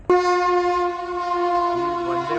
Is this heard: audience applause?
no